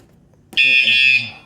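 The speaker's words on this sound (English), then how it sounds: "I don't want to set off the alarm, but it's pretty loud actually" A wireless bicycle alarm suddenly emits a loud, piercing high-pitched electronic tone, close and sustained for about half a second before cutting off.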